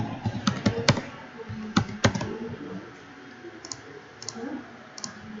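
Computer mouse clicks tick out in quick pairs and short bursts, crisp and close, with a few fainter double-clicks later amid quiet room tone.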